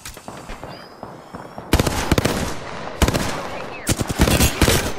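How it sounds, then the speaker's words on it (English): Rapid bursts of automatic gunfire rattle loudly in Apex Legends, coming in several close, dense volleys. "I'm getting shot at."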